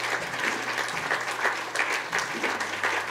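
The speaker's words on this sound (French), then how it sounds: "On va applaudir bien fort Jésus." A church congregation claps loudly during a worship service, a steady wash of applause from many hands close by, with a faint voice underneath.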